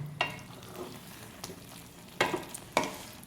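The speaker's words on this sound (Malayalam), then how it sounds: "ഇനി നമുക്കിതൊന്ന് ഇളക്കാം, ഒന്ന് മിക്സാക്കി കൊടുക്കാം." Aviyal vegetables stirred and mixed in a pan, giving a faint, close sizzle with a few sharp scraping clacks of the spoon against the pan and no talk.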